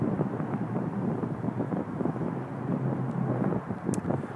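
Wind buffets the microphone outdoors in a steady, rough rumble that continues the whole time with no other clear sounds.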